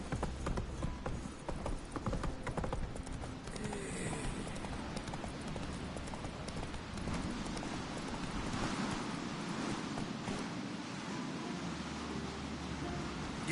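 Horse hooves clip-clop steadily in The Witcher 3 video game, a continuous rhythmic trotting beat under outdoor wind and ambient noise.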